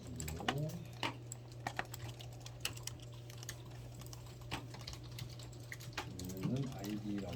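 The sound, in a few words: typing on computer keyboard while coding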